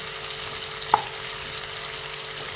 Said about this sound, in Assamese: প্ৰথমতে পিঁয়াজখিনি মই ৰংচঙীয়া কৰি ল'ম